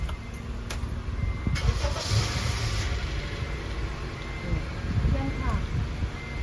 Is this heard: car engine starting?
yes